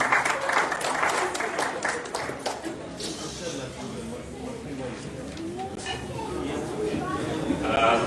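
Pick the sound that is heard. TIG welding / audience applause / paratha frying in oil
audience applause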